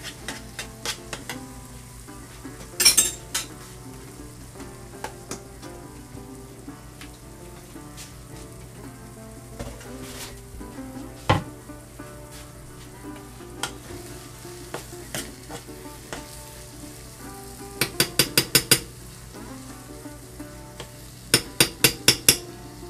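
A roux for South Texas style turtle soup stirred in a pot: a low constant cooking hiss under sparse scraping taps of the spoon, with occasional quick bursts of rapid clacking against the pot.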